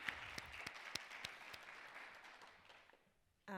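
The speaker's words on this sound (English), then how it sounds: "I'll start them with a round of applause" Audience at a housing justice keynote applauds two speakers, a dense, steady roar of clapping that slowly fades over a few seconds before a sudden loud burst of noise right at the end.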